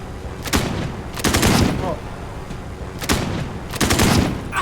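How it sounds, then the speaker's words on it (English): Bursts of rapid gunfire from a Warzone match crack out in four separate volleys, each lasting under a second, loud and close, with quieter gaps of game ambience between them. "Our boys shoot through the floor and get him in the end"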